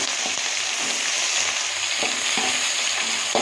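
Finely chopped onions fry in a hot pan with a steady broadband sizzle, punctuated by a few soft scrapes and clicks of stirring; no voices.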